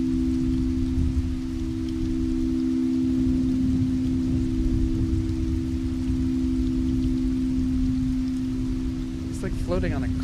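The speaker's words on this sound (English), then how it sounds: "does the rain relax you?" Steady rain falls as a dense, even hiss that lasts throughout, under a constant low electrical hum, with a brief chirping sound near the end.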